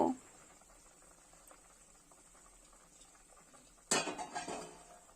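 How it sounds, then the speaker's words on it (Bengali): Fried bitter gourd goes into a kadai of boiling water and is stirred. A metal clatter comes first, then a quiet bubbling stretch, then a sudden burst of splashing and scraping near the end. "এখন আমি ভেজে রাখা উচ্ছেগুলো এর মধ্যে দিয়ে দেব"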